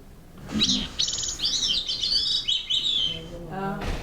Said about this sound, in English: Some kind of bird. It's a bird.